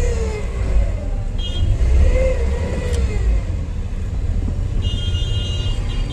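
A car moves slowly through a crowded market, its engine a low steady rumble with brief revs and the faint murmur and bustle of the surrounding street.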